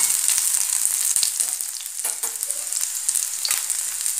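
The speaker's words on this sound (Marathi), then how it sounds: "आता बघा आपली शिमला मिरची भाजते।" Capsicum frying in a pan for chicken or egg noodles, a loud, close, continuous sizzle with small ticks and utensil scrapes, heard alone without talk.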